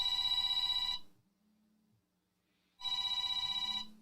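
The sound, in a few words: telephone ringing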